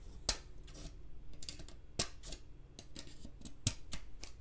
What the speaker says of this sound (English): I still have scissors that can get abused. I know, not the right tool